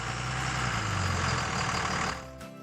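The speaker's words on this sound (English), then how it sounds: "First, I have to level the truck." A truck engine idles and runs steadily while the vehicle is leveled at a Brandywine campsite in the Virginia mountains, a loud low rumble with a faint whine that drops off sharply near the end.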